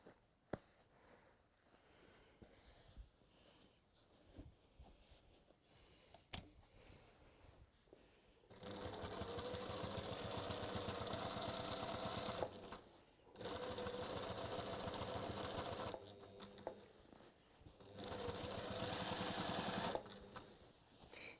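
Sewing machine top stitching around pressed fabric, running in three long steady bursts separated by short pauses after a quiet stretch of faint handling noise at the start, close and fairly loud.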